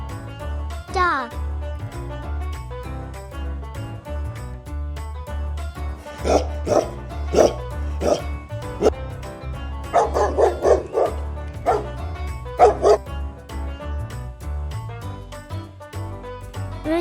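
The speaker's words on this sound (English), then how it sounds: "dog," A dog barks in a quick series of sharp, close barks against steady background music, part of a children's farm animal sound sequence.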